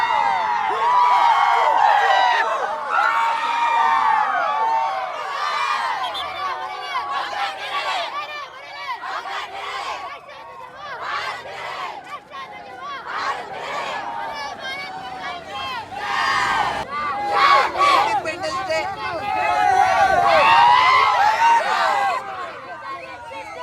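A large outdoor crowd at an Independence Day celebration in India, with steady loud babble, shouting and cheering swells throughout, peaking near the start and end.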